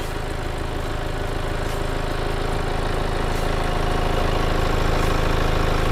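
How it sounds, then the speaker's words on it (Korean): A Mini Cooper D Countryman ALL4 (first generation) diesel engine idles close by with a steady, even rumble and hum that holds constant throughout, with no other sounds breaking through. "엔진 소리 일정하네요."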